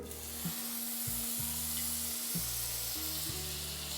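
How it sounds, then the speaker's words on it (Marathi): Butter sizzling on a hot tawa as pav is toasted beside freshly made egg bhurji, a close, steady frying hiss with faint stirring and scraping sounds. "आता इथे एक तवा ठेवला आहे ज्यावर आपण पाव व्यवस्थित असे भाजून घेणार आहोत आता बटर घालते"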